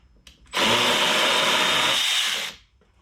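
A power drill fitted with a 5/16 socket removes an air box screw on an old OBS Ford truck. It makes a single loud, close whir that lasts about two seconds, with no voices.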